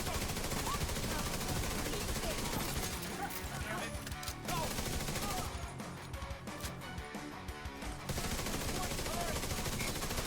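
Heavy automatic gunfire in The Division 2, loud sustained bursts with impacts and short gaps, mixed with a player's speech.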